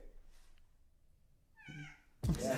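A cat gives a single faint, drawn-out meow inside the Villisca Axe Murder House at night, followed by a loud thump.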